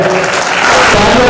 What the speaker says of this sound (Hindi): आप इनके सम्मान में जोरदार तालियां बजाएं।